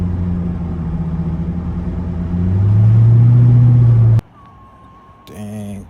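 A car engine revved with a little gas, rising to a steady loud rumble for a couple of seconds before cutting off abruptly, followed by a short electronic tone and a brief voice.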